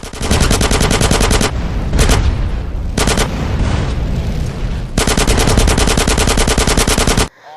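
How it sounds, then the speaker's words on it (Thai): A gunfight in the video game GTA San Andreas Definitive Edition erupts in loud, rapid automatic gunfire bursts with short gaps between volleys. "ซีเจและคนอื่นๆในทีมสามารถเอาชีวิตรอดจากการดวลปืน"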